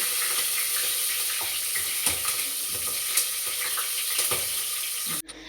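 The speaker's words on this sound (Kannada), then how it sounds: "ಅದು ಸ್ವಲ್ಪ ಕಾದ್ಮೇಲೆ ಚಿಲ್ಲಿ ಆ್ಯಡ್ ಮಾಡ್ತಾ ಇದ್ದೀನಿ" Chili sizzles and fries in hot oil in a pan while cooking biryani, a steady crackling hiss with scattered pops and stirring clinks, ending abruptly near the close.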